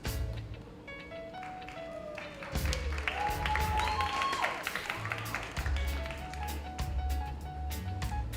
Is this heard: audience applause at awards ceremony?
yes